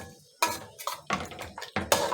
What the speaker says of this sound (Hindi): अब इस पालक को हम अच्छी तरह से इस मसाले के अंदर मिक्स करेंगे